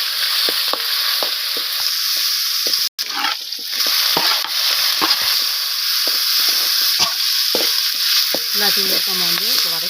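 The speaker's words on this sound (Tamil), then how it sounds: "கறிவேப்பிலை, வெங்காயம் கொஞ்சம் வதக்கிடலாம்." Curry leaves and onion sautéing in hot oil in a pan, a loud continuous sizzle broken by frequent scraping stirs and clatter of the spoon, with a brief dropout near the start.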